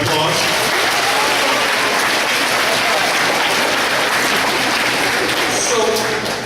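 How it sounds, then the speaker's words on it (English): Audience at a school anti-bullying event with the NY Jets applauding loudly and steadily throughout, a dense wash of clapping with no gaps. "Can we give Ross a big round of applause?"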